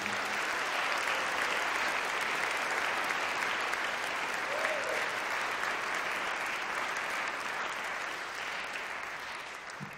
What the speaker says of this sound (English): would you please give another warm round of applause to the University Band for their fine performance?